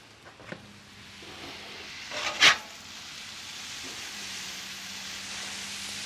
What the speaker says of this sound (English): Alright, I'm going to let this sizzle for just a little bit